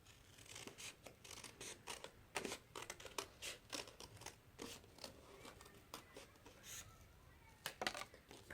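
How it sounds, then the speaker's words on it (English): Scissors snipping through a folded paper plate to cut out a heart shape for a Valentine's Day craft, a close series of quick crisp cuts and rustles with brief pauses between snips. "and cut out a heart shape."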